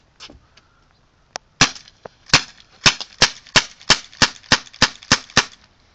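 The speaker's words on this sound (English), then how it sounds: "now here's the CO2 Wingun revolver" A CO2-powered Wingun airsoft revolver fires about a dozen sharp, close cracks at a steady, quick pace, preceded by a few fainter clicks and handling noises.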